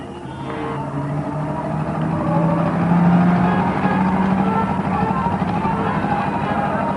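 Hodge Rods race cars accelerate around an oval track behind the pace car, a loud, continuous engine drone that swells and stays close throughout.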